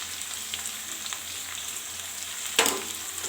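Pointed gourd with spices fries on low flame in a pan, a steady soft sizzle close by with a brief louder crackle partway through.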